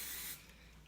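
Hairspray from an aerosol can sprayed onto a hair brush while styling old Hollywood glam hair: one steady close hiss for about a third of a second, then it cuts off.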